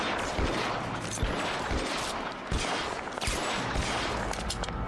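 Gunfire in the video game LA Noire, a dense run of loud, repeated gunshots crackling continuously for several seconds, with no talking.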